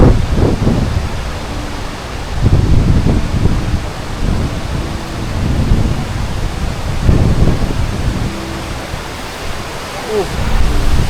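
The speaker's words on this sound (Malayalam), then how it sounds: "ഇത്രയും കാറ്റും ആ വാട്ടർഫോളിൻ്റെ സൗണ്ടാണ്." Constant roar of a waterfall mixed with strong gusting wind on a monsoon mountain trek at Meesapulimala, Munnar, loud broadband rushing that swells and eases, with wind buffeting close by.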